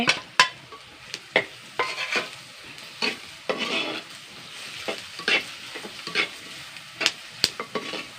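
Ginger, garlic cloves and green chillies sizzle in hot oil in a pan, a crackling hiss broken by repeated sharp spatters and stirring clicks at an uneven rhythm, close and moderately loud with no talking.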